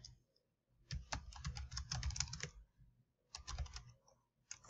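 Quick bursts of typing on a computer keyboard, close and fairly quiet, with clustered key clicks broken by short pauses.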